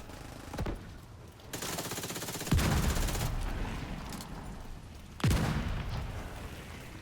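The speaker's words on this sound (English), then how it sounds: "Try to stay out of the mortar fire" Mortar fire booms in a video game battle, with several heavy explosive thuds landing a few seconds apart over a constant rumble of distant gunfire.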